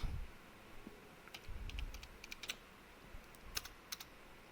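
Quick bursts of typing on a computer keyboard while renaming a folder: clusters of sharp key clicks, close and fairly quiet, separated by short pauses.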